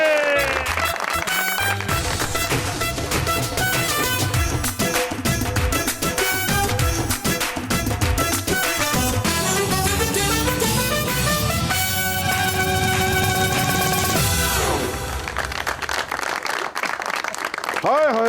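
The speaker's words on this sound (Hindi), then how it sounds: "आपकी भरपूर तालियों में please welcome the legendary one and only Wasim Abbas" A studio audience on a Pakistani TV comedy show applauds loudly and continuously to welcome a guest, dense clapping filling the space with a band playing along, the applause dying away near the end.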